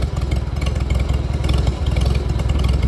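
A Farmall Super A tractor engine runs close by with a loud, rapid, even chugging beat and mechanical clatter throughout.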